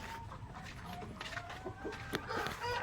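Faint Rhode Island Red hen clucks and bird chatter over a noisy outdoor background, scattered and soft, with no clear voices.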